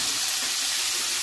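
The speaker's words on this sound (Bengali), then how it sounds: "এবার সুন্দর করে ভালো করে আমরা ভেজে নেব" Cauliflower pieces for chilli gobi fry in hot oil with a steady, dense sizzle that fills the whole short stretch, close and even with no voices.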